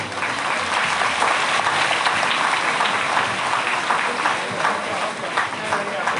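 Sustained applause from an audience welcoming guests at a Catholic parish Tusgo harvest celebration, dense and steady for several seconds, with no voices above it.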